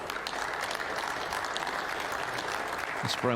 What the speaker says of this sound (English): This Brentwood crowd acknowledging that was the ball that carried O'Donnell to the snooker's required stage